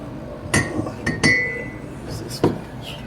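A cup is handled while mixing margaritas, giving a few close, bright clinks and knocks with ringing tails, spaced irregularly over a low room background.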